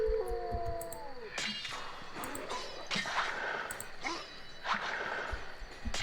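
In The Witcher video game, dogs give a drawn-out, falling howl that soon gives way to noisy scuffling and combat sounds.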